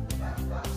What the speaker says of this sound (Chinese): 先听到狗叫哈。